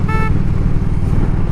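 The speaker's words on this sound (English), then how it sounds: "give them a little honk" A vehicle horn honks once in a short bright tone over loud, steady engine and wind roar during a motorcycle ride on the road.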